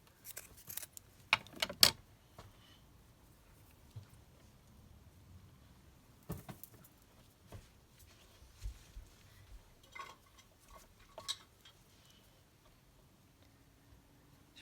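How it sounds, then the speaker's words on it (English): Scissors snip through lace during a papercraft session making a decorated envelope with ephemera: a few faint, sharp cuts in a quick cluster, then scattered quiet clicks and handling sounds at a low level. "snip off a little bit of this"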